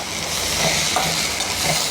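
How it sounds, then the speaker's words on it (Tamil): Handfuls of fresh mint and coriander leaves stirred in hot oil in a pan, a steady close sizzle and soft frying hiss with light scraping of the spoon throughout. "ஆயில் சூட்லேயே நல்லா பிறப்பி விட்டுடலாம்."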